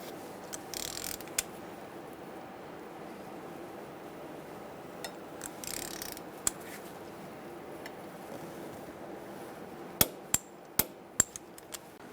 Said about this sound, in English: you're going to use a 14mm and you're going to torque this to 25 foot-pounds